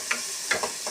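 Onions fry in a pan, a soft background sizzle broken by a few quick scraping stirs of the spatula, close and fairly faint.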